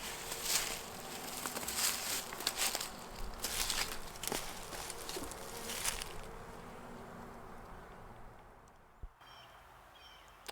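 Honey bees buzz around an open hive, a steady insect drone that is busier early on and thins toward the end, with a few soft handling knocks and bumps from the beekeeper.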